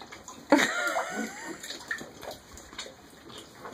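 Water splashes and sloshes in a tub as a baby is bathed, with a sharp splash near the start and then steady, close gurgling and lapping.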